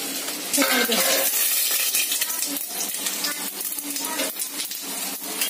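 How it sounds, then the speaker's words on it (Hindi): Mustard seeds and a little coriander crackle and sizzle in hot oil for a tempering, a dense steady hiss with scattered sharp pops, close and loud throughout. "यहाँ पर सरसों और थोड़ा सा धनिया का जो है तो फोरन में डालेंगे"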